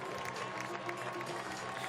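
An audience applauds athletes after a heat of a women's event at the 2019 CrossFit Games: steady, dense clapping and crowd noise that holds evenly throughout.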